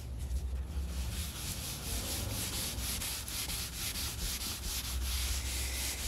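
A chamois rubbed over charcoal on a painting ground, producing a steady close scrubbing hiss with a faint rhythmic back-and-forth pulse throughout, alone with no talking.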